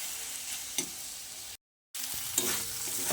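Tomato and spice masala frying in oil for Bengali moong dal, a loud, close, continuous sizzle with faint stirring scrapes, broken by a brief silent gap midway.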